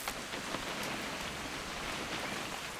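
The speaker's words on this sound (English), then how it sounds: "It's gonna rain the whole weekend," A brief stretch of constant rain hiss from What Remains of Edith Finch, a uniform downpour with faint individual drop taps and no talking.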